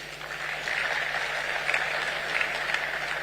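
Audience applause at a memorial lecture, steady dense clapping from a crowd sustained for a few seconds with a faint hum underneath.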